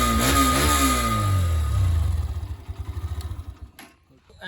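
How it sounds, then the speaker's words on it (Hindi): A Hero Xtreme 125R motorcycle engine revs up loudly with a rising exhaust note, then drops back to a quick, pulsing idle before trailing off. "तो ऐसा कुछ आता है बाइक का एग्जॉस्ट नोट"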